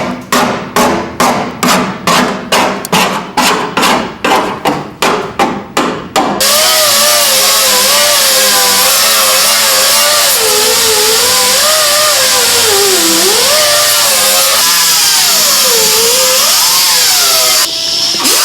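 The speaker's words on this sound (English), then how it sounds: "We'll grind a weld down" On a muscle car patch panel, a rapid series of sharp, evenly spaced metallic impacts gives way to a loud, continuous grinder whine whose pitch rises and dips as the weld is ground down.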